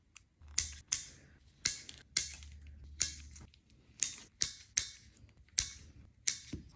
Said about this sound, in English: I got my tip cutter and the magnets. I'm gonna be using 5 magnets today. And I'm gonna be cutting down the nails.